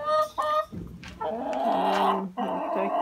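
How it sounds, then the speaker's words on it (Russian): Chickens cluck and murmur close by in a busy, continuous stream of short calls with no talking. "Курочки бегут, они думают, что им тут травку принесли."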